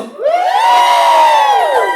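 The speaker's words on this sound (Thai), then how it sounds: "ขอเสียงกรี๊ดมาเร็ว" Loud crowd screaming and cheering on cue at an event, a sustained high-pitched roar of voices that swells in and holds steady for about two seconds.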